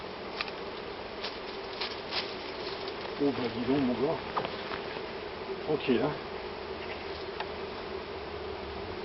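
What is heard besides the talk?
calm honeybees buzzing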